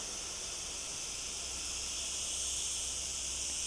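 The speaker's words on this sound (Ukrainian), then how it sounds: "Так, на задньому фоні чути цикади." Cicadas in hot summer weather make a steady, dense, high-pitched buzzing drone that stays constant throughout, with no talking.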